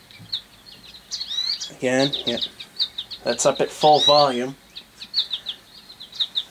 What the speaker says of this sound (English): And then there's birds, which is number 2.